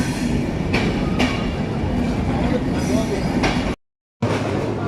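Inside the Panchagarh Express on a run toward Panchagarh, loud steady rumble and rhythmic clattering of the carriage fill the space, broken by a short moment of silence.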